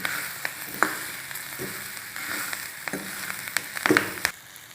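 Green chilies sautéing in a pan for a spicy Maharashtrian chili dish, a soft continuous sizzle broken by sharp spatula scrapes and clinks at irregular moments.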